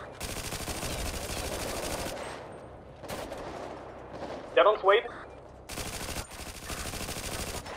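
Machine gun fire during a building shootout in a role-play video game, with long loud bursts of rapid automatic shots broken by short pauses and a few sharper cracks, and no talking.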